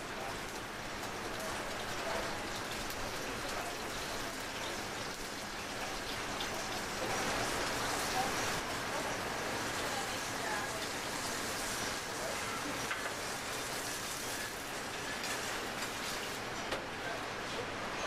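A steak pan-frying in a steakhouse kitchen gives off a steady, even sizzle like fine rain, holding at a moderate level throughout without a break.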